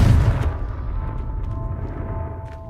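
A Confringo blasting spell goes off in the video game Hogwarts Legacy, a loud low boom at the start whose rumble fades into a lingering, muffled wash of game ambience.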